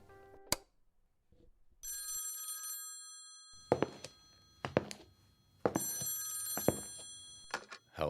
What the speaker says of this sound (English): answer the phone if it rings